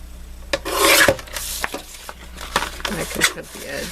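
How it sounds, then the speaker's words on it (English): A big paper guillotine trims the edges of card, making a close rasping slice followed by softer rubbing and handling sounds, with a voice speaking briefly. "I'm going to use my big guillotine just to remove the edges"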